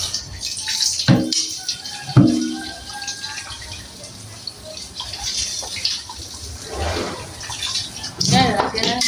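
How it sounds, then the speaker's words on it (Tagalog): Water is poured into a pot of corn, the caldero, for boiling: a few splashy gushes and trickles sound close by, with a person talking over the pouring. "At lalagyan na natin ng tubig."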